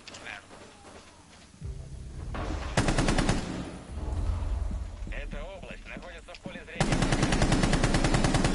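Rapid automatic gunfire in the Rainbow Six Siege video game comes in several loud sustained bursts with pauses between them, mixed with game sounds and someone talking over the action.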